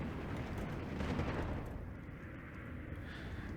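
Heavy bombs from a bomber fall on a cluster of infantry in Steel Division 2, a WWII strategy game. Dense, rumbling blasts swell and roll together, loudest early on, then settle into a low, sustained roar.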